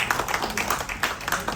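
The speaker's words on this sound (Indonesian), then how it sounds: "Beliau yang boleh tepuk tangan dulu." Clapping from a meeting audience in South Sulawesi as Ibu Milda is honoured, a brief run of quick, fairly close hand claps with a voice speaking in the background.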